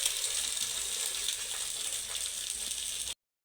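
Egg-dipped bread frying in ghee on a flat pan, a loud, steady, close hiss of sizzling fat that holds evenly for about three seconds and then cuts off abruptly.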